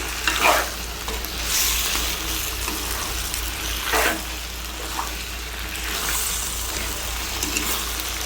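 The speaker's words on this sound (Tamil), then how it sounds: "இப்போ கறி போட்டாச்சு. இதை நம்ம வதக்கிக்க போகிறோம்." Chicken pieces sautéing in a pan for Chintamani chicken, a continuous hissing sizzle with occasional louder scraping stirs, heard up close and alone without speech.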